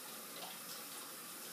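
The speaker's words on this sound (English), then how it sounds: "I'm gonna rinse these eggs a couple times until the water is not hot warm" Tap water runs steadily into a kitchen sink to rinse boiled eggs, a soft, even hiss and splash with nothing else heard.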